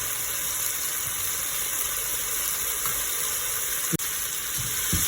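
Masala spices, coriander seed powder and garam masala, cook in oil for spinach rice with a steady, even sizzling hiss throughout, broken by one sharp click near the end.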